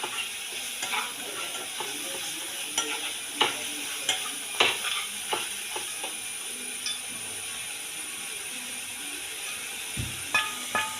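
Something being sautéed in a pan ahead of adding bitter gourd, with steady sizzling and scattered clicks and scrapes of a stirring utensil throughout, close and fairly quiet, with no talking.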